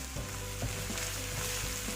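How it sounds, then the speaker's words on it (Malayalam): Ginger and garlic sautéing in a pan for a creamy chicken curry, a steady soft sizzle with faint stirring ticks, close and quiet, no talking. "ഇഞ്ചി ബാലൻസ് കുറച്ചുള്ളത് ഇട്ട് കൊടുക്കാം. അതുപോലെ തന്നെ വെളുത്തുള്ളി. ഒന്ന് സോട്ട് ചെയ്യണം."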